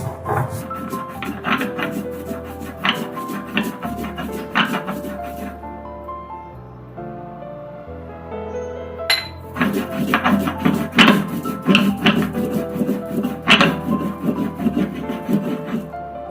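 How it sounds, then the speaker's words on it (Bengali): Jackfruit seeds are ground by hand on a flat grinding stone (shil), giving repeated rough scraping and rubbing strokes in bursts, with a quieter pause in the middle. "শেষে এই শিলেই বেটে নেব কাঁঠালের দানাগুলো"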